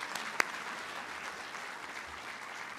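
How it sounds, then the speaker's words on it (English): A philanthropy celebration audience gives a round of applause, steady dense clapping from a large room heard at a moderate distance, with one sharp louder clap near the start. "Let's give them a round of applause."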